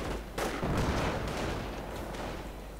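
Dense battlefield din in a World War II strategy game, with German mortar rounds landing on a machine gun emplacement. A sharp blast opens into sustained rumbling gunfire and explosions, loud and continuous over nearly three seconds, with no voices.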